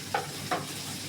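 Coconut and onion frying in a pan for a beef masala, a steady soft sizzle with two brief louder stirring scrapes, close and alone with no voices.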